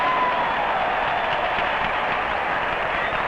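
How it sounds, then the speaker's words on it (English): Noisy wrestling arena crowd at a Carpentier versus Thesz bout, a steady dense roar of cheering and crowd noise filling the whole stretch at even loudness, with no single voice standing out. "I think this is about the noisiest crowd I've ever heard"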